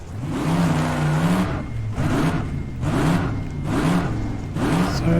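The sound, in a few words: race car accelerating and braking in rFactor 2 video game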